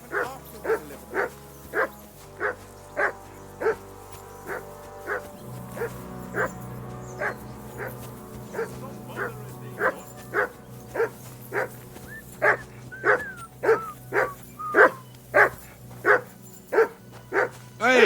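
Dog barking in the video game Kingdom Come Deliverance 2, a long run of regular, evenly spaced barks that keep going throughout and get louder toward the end.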